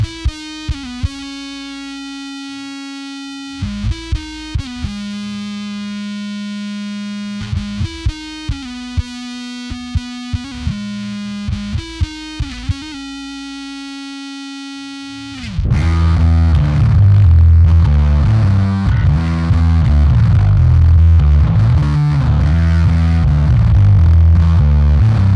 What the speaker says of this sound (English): It goes from what might sound like a germanium fuzz to something like an LED fuzz.